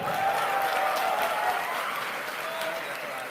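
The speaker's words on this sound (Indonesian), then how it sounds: "Tepuk tangan buat Pak Tito." A gathering of listeners gives a sustained round of applause for an immigration office chief, dense clapping at moderate distance with a faint voice underneath.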